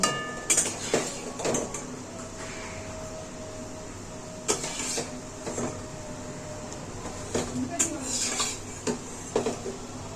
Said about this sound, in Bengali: তো এবার আমি পটলটা দিয়ে দিচ্ছি।